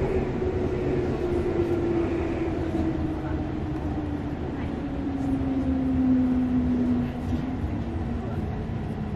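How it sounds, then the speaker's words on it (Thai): Two Osaka Loop Line trains pass each other, a loud sustained rumble of wheels and carriages with a slowly falling whine, heard from inside a moving train. "โอ้รถไฟสวนกันฮะ"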